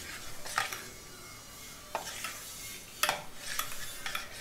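Moru curry being stirred in a pan, with a few scraping spoon strokes against the metal over a soft, low simmer; quiet and close, with no voices.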